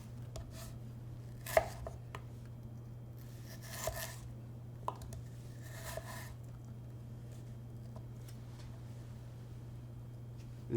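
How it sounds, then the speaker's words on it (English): A knife cuts a block of food into quarter-inch planks with straight up-and-down strokes, giving a few quiet, scattered chops and scrapes against a steady low hum. "cut 1/4 inch in straight up and down, top to bottom, creating a plank"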